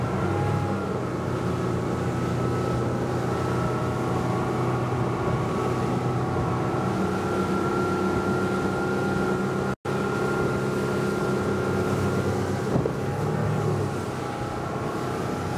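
A Saxdor 200 Sport runs across the water under steady outboard drive, a loud, constant motor drone with rushing hull and water noise and one brief dropout.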